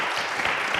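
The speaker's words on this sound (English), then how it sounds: "A big round of applause for our panelists here." Adults at a racial justice education forum applaud their panelists, a short, dense wash of clapping from a gathered group with no gaps.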